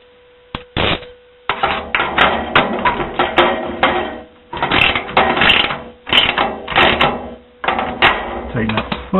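Hardware on an adjustable equipment foot is tightened in a series of close, sharp clicks and ratcheting metallic clatters, coming in bursts with brief pauses between them.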